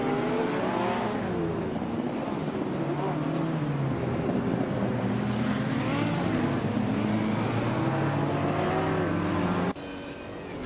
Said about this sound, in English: Case Teflex is driving the 1997 Vector M12